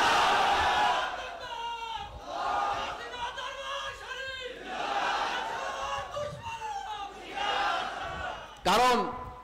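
A large crowd at an Islamic mahfil gathering shouts Takbir in repeated surging waves of voices, loud and close, with a sharp louder burst near the end.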